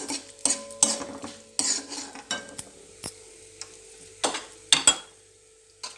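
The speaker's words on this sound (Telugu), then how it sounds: "రెండు 3 ఎండుమిరపకాయలు తుంపి వేసుకొని ఒక 2-3 పచ్చిమిరపకాయలు కట్ చేసుకొని ఈ విధంగా వేసుకోవాలి." Dried red chillies and chopped green chillies frying in a pan for sorakaya pottu pachadi, with steady close sizzling under repeated sharp metal clinks of a spoon stirring against the pan.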